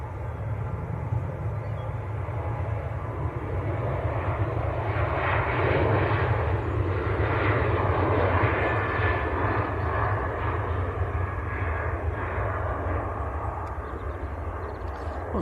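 A Ryanair passenger jet at Manchester Airport produces a sustained, loud engine roar that swells and fades gradually across the whole stretch, with no speech.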